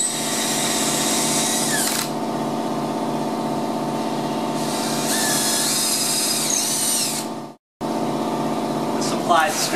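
A power drill drives screws through pre-drilled holes into the wooden jamb leg of an interior door with a reversible jamb kit. Its motor whines steadily and closely, cutting out briefly near the end before starting again.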